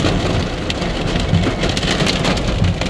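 Hail pelting a car during a rare hailstorm, the wipers switched off, heard as a dense, steady patter of small hard impacts drumming on glass and metal for the whole stretch, with no talking over it.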